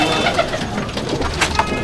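Breeder pigeons coo in a large loft, a dense, continuous murmur of overlapping calls close at hand and moderately loud.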